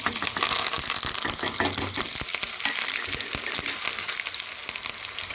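Shallots, curry leaves and red chillies frying in hot oil for a Tamil spinach curry, giving a steady, close sizzle with crackling pops and occasional stirring scrapes, with no talk.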